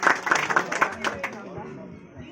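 Audience clapping at a community association's branch committee meeting in Maharashtra, a short burst of claps fading after about a second beneath ongoing talk.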